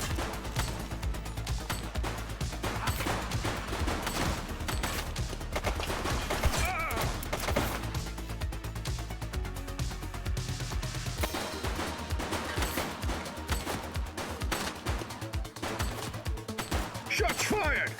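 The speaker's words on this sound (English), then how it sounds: "Shots fired!" Gunfire in the police game The Precinct: rapid, dense volleys of shots crackling loudly and continuously, with a short lull midway before the firing picks up again, while voices shout over the shooting.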